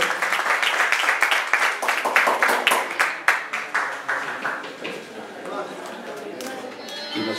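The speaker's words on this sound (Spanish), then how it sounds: "Invitamos a los hermanos Luna con un fuerte aplauso, por favor, para que nos subamos al escenario." A crowd at a live music show applauds as the Luna brothers take the stage, a burst of clapping with sharp individual claps that gradually thins out, while a voice speaks over the tail end.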